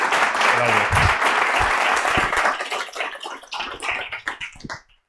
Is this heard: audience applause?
yes